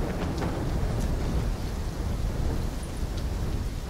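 In Call of Duty: Black Ops III, a thunderstorm rumbles with steady heavy rain, a dense low roar and constant patter with no talking.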